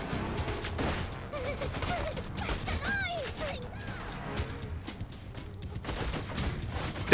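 Rapid gunfire in Borderlands 2 crackles in bursts under a voice, with mechanical clanks and creaks mixed in.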